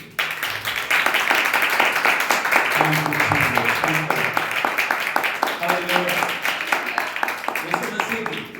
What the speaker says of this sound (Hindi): हालेलुया, ताली बजाएं उसके लिए